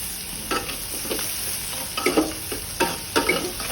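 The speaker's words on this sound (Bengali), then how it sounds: "তেল গরম হলে এতে পেঁয়াজ দিয়ে দিচ্ছি" Onions dropped into hot oil in a pot for beef liver bhuna, sizzling and crackling up close with bursts of stirring and scraping that come in uneven clusters over the steady hiss of the oil.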